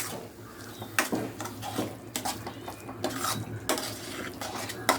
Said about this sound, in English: Slowly add, slowly mix it.